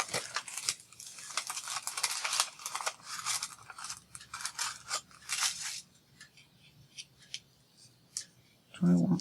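Scissors snipping through material in a quick, dense run of crisp cuts for several seconds, then sparser, quieter snips, ending with a louder low thump.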